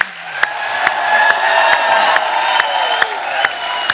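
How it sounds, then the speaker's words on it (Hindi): A studio audience at a Hindi comedy show applauds and cheers the guests, with loud crowd noise, sharp regular claps roughly twice a second and music playing underneath throughout. "एक बार जोरदार तालियां हमारे मेहमानों के लिए।"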